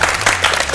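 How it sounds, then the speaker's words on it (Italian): A brief burst of applause, many hands clapping together in a dense, steady patter. "Facciamo invece un applauso al nostro ospite"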